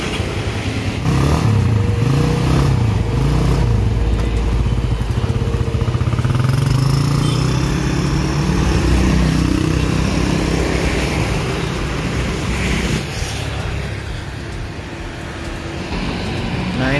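A new motorcycle's engine runs loud and close, with a rough, shifting rumble that rises and falls continuously, amid outdoor noise that sounds like a busy roadside.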